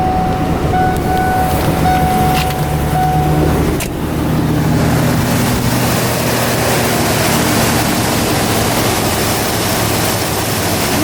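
A 53K-mile 4.6-liter V8 4x4 truck cold-starts with a short cranking burst, then settles into a steady, loud idle rumble with broadband mechanical noise throughout.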